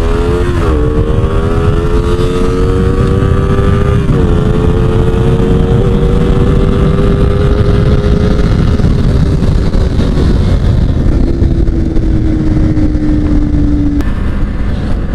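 Honda CBR250RR sport motorcycle ridden hard, its engine climbing in pitch under acceleration with a brief dip at a gear change, loud and close against steady wind roar throughout.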